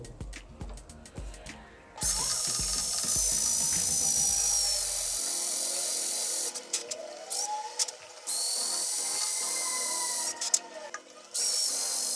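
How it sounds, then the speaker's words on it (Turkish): A power drill whines steadily at close range, drilling out a rivet on an old knife-sharpening tool from the 1800s, stopping and restarting a few times, after some brief clanking handling noises. "Mecbur delmek zorundayım burayı."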